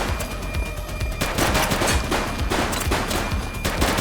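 Rapid bursts of gunfire in the police video game The Precinct, loud and continuous across the clip with sharp volleys and a steady, busy mix behind them.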